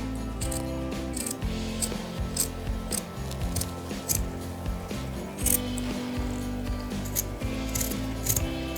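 Scissors trim excess fabric along a machine-embroidered outline, producing repeated close crisp snipping and rasping cuts in an irregular rhythm, with no talk.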